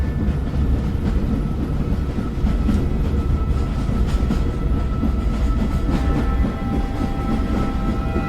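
A train rolls along in the video game Grunnd, giving a steady, loud rumble with faint rhythmic wheel clatter for the whole stretch, and no voices over it.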